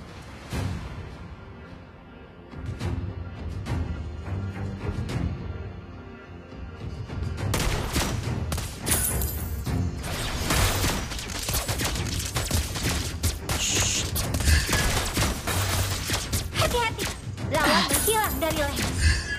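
Rapid bursts of gunfire crack in quick succession over a busy, loud mix, with scattered heavier thuds and impacts, from the mobile game Mobile Legends.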